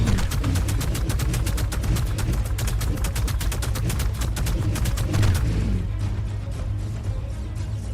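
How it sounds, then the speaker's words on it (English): Minigun in the video game Ark fires in a long, rapid, continuous burst of evenly spaced shots, loud and close, then drops to a quieter, thinner stream of shots toward the end, with no talking over it. "So you go through a lot of bullets since it shoots so rapid."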